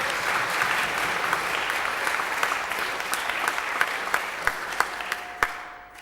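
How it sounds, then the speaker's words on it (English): Applause for Jennie, who carried an Olympic torch, from an audience gathered for a church or children's service. Broad, steady clapping fills the whole span, with a few sharper individual claps standing out near the end as it thins. "Let's give her another round of applause"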